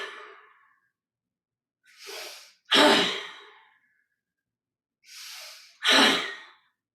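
Slow, deep yoga breaths fill a quiet hatha session, two rounds each made of a short inhale followed by a long, loud exhale, close and isolated with silence between.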